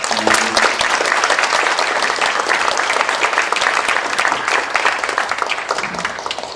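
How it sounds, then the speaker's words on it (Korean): A large audience at a public lecture applauds loudly and continuously, dense clapping filling the whole stretch without a break. "큰 박수로 환영하겠습니다."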